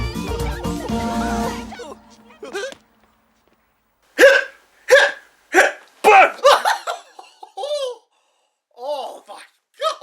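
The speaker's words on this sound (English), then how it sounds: "Well, it looks like my hiccups have gone." A children's television presenter hiccups repeatedly in sharp, separate bursts after a stretch of music, with giggles and brief voice sounds mixed between the hiccups.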